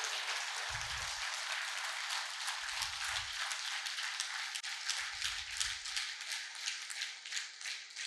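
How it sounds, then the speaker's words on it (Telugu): An audience at a meditation music gathering claps continuously at moderate loudness, a dense, steady patter of many hands, with occasional low thumps beneath it. "ఒకసారి గట్టిగా క్లాప్స్ కొట్టుకుందామా?"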